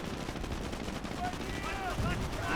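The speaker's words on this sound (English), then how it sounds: "Oh, strafing run there." Strafing run in the World War II strategy game Company of Heroes, a dense burst of rapid gunfire and rumbling impacts sustained throughout, with a voice speaking over it.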